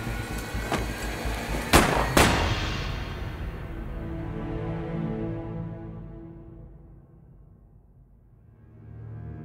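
Firing-squad gunfire: a few sharp shots, with two loud cracks close together, followed by a long ringing decay that fades over several seconds.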